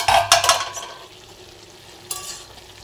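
A cauliflower and potato curry is stirred in a pan, with a few quick scraping strokes and soft sizzling up front, then a quiet pause and one more brief scrape near the end.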